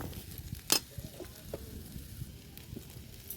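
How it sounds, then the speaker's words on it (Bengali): Potatoes fry in a wok with a soft, quiet sizzle, broken by a few utensil scrapes and one sharp metallic clink near the start. No speech. "আলুটাও ভেজে নিই"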